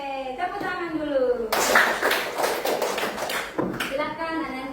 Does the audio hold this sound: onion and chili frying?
no